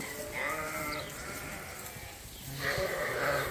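Sheep bleating on a farm while ewe lambs are being fed, with a couple of mid-distance calls near the start and end of the clip and the steady murmur of the flock in between.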